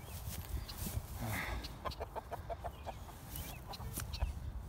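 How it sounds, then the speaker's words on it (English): Chickens in a chicken tractor give soft, scattered clucks at moderate distance, low and uneven over faint outdoor background noise. "Come on, Fred, go back in the chicken tractor."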